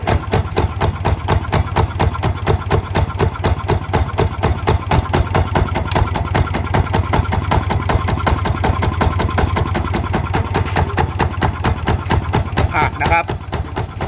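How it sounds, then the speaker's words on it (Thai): A ZT 155 single-cylinder farm engine, fitted as a walk-behind paddy tractor and water pump, runs steadily near the listener with a fast, even thumping beat, throttled down toward idle and changing slightly near the end. "ก็ต้องลองเบาเครื่องดูนะครับว่า มันเบาแล้วนิ่งไหมนะครับ"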